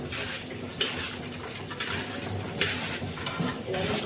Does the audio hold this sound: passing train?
no